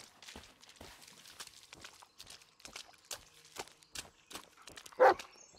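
Bullet the dog moves about in the Blair Witch game, with a string of light footfalls and soft scuffs, a few sharper bark-like bursts, and one louder yelp near the end, close by and without talk.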